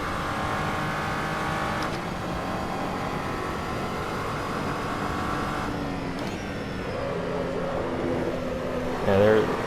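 SCG 003C race car in Assetto Corsa, heard steadily from the cockpit as the engine note shifts while braking into a turn, with a brief burst of tire or engine noise near the end.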